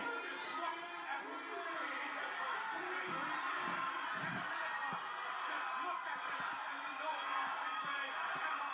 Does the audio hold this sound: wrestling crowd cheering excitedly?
yes